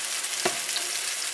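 Bread soaked in milk, egg and sugar fries in a pan with a steady, bright sizzle and one quick scrape of stirring, close and uninterrupted.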